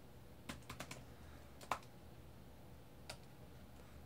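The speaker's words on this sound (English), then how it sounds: "On PowerShell I just type" A few sparse key presses on a computer keyboard while entering a PowerShell command to switch a USB CH340 relay module, faint soft clicks in a quiet room, one slightly sharper tap near the middle.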